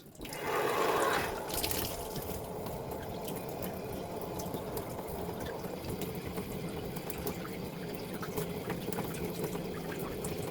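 Water flows into a newly installed shower valve line of copper and PEX pipe, a brief louder gush at the start settling into a steady, even hiss of running water with no voices.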